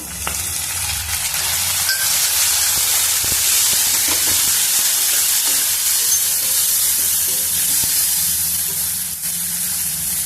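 Tomato pieces are tossed into a pan with frying onions for a ridge gourd masala curry, producing a loud, steady sizzle and hiss with occasional stirring scrapes and clicks, close and without any voices.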